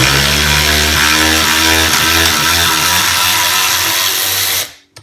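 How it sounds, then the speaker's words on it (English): An economical 20V cordless ratchet whirs loudly up close while backing out bolts, its motor pitch wavering and pulsing as the load changes, then cutting off abruptly with a short clatter. "So it did a decent job for a fairly economical little cordless ratchet."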